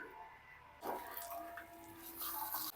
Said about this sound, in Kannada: ನೀರು ಬರ್ತಾ ಇದ್ದಾರೆ